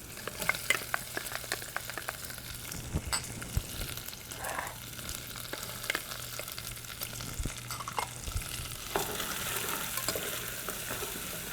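Onions and carrot sweat in rendered pork fat in a pan for tomato sauce, a soft, steady low sizzle broken by frequent clicks and scrapes of stirring, close and without talk.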